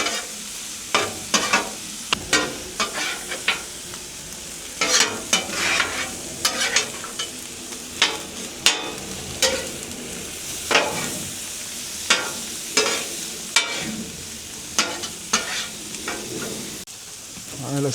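Eggs fry on a hot hibachi griddle with a steady sizzle, punctuated by frequent sharp scraping and tapping strikes of a metal spatula in an irregular rhythm, close and fairly loud throughout.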